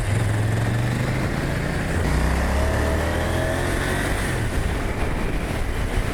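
A KTM 790 Duke parallel-twin motorcycle accelerates, its engine note climbing through rising pitches under heavy, constant wind rush, close and loud with no talk.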